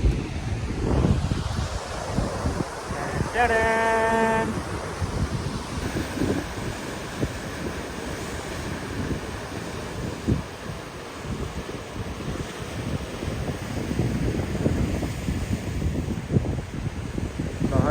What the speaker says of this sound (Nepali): पछाडि पुरै छाल आइरहेको छ आज समुद्रिक छाल